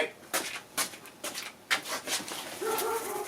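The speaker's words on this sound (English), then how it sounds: "She's got something she's barking at anyway." A dog barks in short bursts, several sharp woofs with brief gaps, ending in a drawn-out whiny yelp; close and fairly loud.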